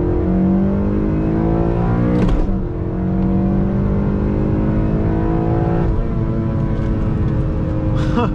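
A manual-transmission car engine revs hard at full load, pitch climbing through gears with brief dips at each shift, loud and close.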